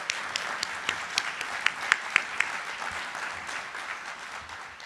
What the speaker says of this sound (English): would you join me in giving a round of applause to Lisa Marie?